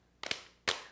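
Hand claps in a dance class, two close, sharp slaps about half a second apart, the first a quick double hit, each with a short bright ringing decay.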